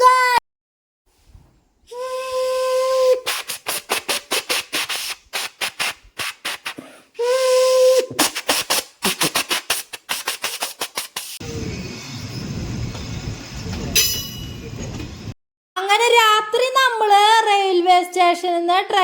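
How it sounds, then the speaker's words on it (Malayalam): A train pulls out of Thrissur station with a mix of shrill whistle-like tones and a stretch of broad, steady hissing rumble. Voices or other sounds break in at times, and tonal wavering sounds fill the end. "നമ്മുടെ ട്രെയിൻ പുറപ്പെട്ടിരിക്കുന്നു"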